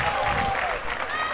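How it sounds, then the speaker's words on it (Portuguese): A tennis crowd at an ITF women's doubles semifinal applauding and chanting in unison, a dense roar of clapping and voices filling the short moment, with a commentator talking over it. "a torcida agora grita o eu acredito"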